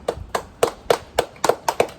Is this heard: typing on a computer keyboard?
no